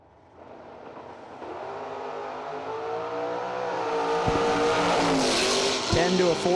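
A 1969 Camaro and a 1967 Chevelle launch side by side at a drag strip, engines building to a loud sustained roar with harmonic revving, with a race announcer talking over it.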